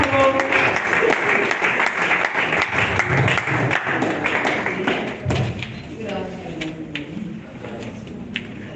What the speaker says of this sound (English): Clap until she comes